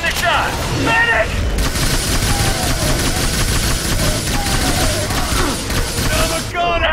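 Rapid bursts of automatic gunfire and explosions from a squad firefight in the video game The Bureau: XCOM Declassified, loud and continuous at close range, with shouted voices mixed in.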